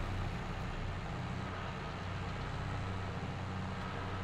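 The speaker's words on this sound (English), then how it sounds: "Yes, I do like this little John Deere tractor." Low, steady drone of a small John Deere tractor engine in Farming Simulator 22, running continuously at an even pitch with a constant rumble and no voices over it.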